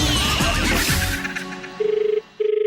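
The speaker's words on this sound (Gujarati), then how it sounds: "ફોન આવ્યો" Telephone ringing in a radio comedy sketch: two bursts of electronic ring tone near the end, following a loud jingle and music, with a short gap between the rings.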